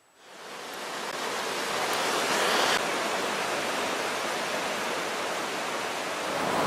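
Huizanoy river rushing steadily close by, a broad continuous roar of flowing water that swells in at the start and holds even throughout, with no voices.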